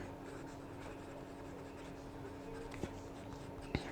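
A broad TWSBI fountain pen nib scratches softly across paper in a quiet room, faint and close, with a low steady hum beneath and a couple of small taps.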